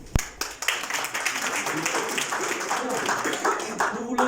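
Applause from a seated audience at a closing ceremony for an integration seminar, starting with a sharp clap and swelling into a steady, moderately loud patter, with voices murmuring through it.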